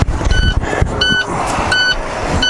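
A truck's warning beeper sounds in short, evenly spaced electronic beeps, loud and close, about four pulses over engine idle and clatter.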